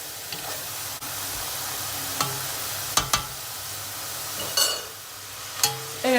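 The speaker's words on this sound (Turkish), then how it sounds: "patateslerimizi şu kaşığın ucuyla yavaş yavaş karıştıralım" Potatoes sizzle steadily as they fry in a pan, with the tip of a spoon stirring them now and then, adding soft scrapes and clicks over the constant hiss.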